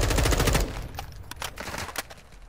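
Automatic gunfire in the video game Warzone 2 opens in a loud rapid stream, then gives way to scattered quieter shots and impacts, fairly close, with no talking.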